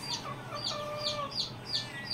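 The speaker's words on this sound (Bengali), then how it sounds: "এখানে 5 পিস ডিম দেওয়া টাইগার মুরগি রয়েছে রানিং" Tiger breed laying hens at a poultry farm cluck repeatedly, several short overlapping calls in a steady rhythm at close range over a low background hum.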